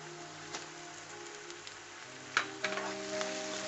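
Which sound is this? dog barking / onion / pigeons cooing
onion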